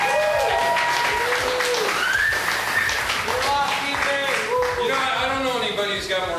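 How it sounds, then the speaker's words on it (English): An audience claps for Tony in a church-style gathering, with applause mixed into loud, lively talk and voices rising over it throughout. "let's have a big round of applause for Tony"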